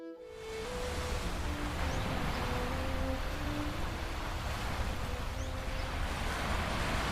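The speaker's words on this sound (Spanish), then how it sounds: "Lo único que se oye es el mar." Steady sea surf washing continuously, a broad even rush of waves breaking alone with no voices, faint low tonal hum underneath.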